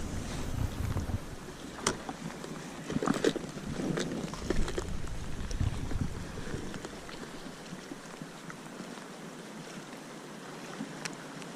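Heavy rain pours on a shore during bank fishing for sea bass, a steady dense hiss mixed with wind buffeting the microphone and a few sharp taps, loud and close with no voices.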